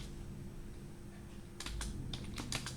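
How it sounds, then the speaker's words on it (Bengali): Keys on a computer keyboard are tapped in a short burst of quick, close, crisp clicks after a quiet pause. "এন্টার প্রেস করলাম, এন্টার করলাম, কন্ট্রোল ডি করলাম"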